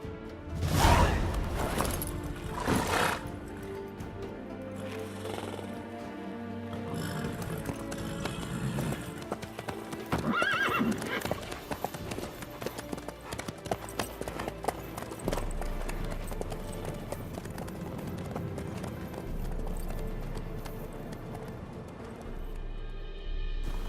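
Horse hooves clip-clopping at a steady run in The Witcher video game, continuous rhythmic hoofbeats under music-like tones, moderately loud.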